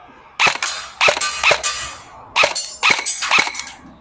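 An E&C electric airsoft BB pistol fires on full auto, giving several loud, sharp, clacking bursts close up with short gaps between them.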